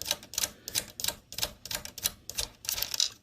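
Screwdriver working loose the nut on a power switch of a Data Precision 8200, giving a steady series of about a dozen short, crisp metallic clicks and scrapes close to the mic.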